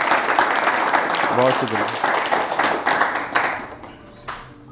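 Audience at an open mic Hindi poetry show breaks into clapping, a dense burst of applause that thins out over a few seconds while the poet speaks briefly over it.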